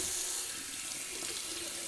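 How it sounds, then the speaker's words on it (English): Tap water runs steadily into a sink for a cold rinse, a close, constant hiss and splash with no talking. "cold water rinse."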